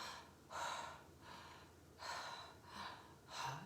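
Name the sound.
slow deep breathing demonstration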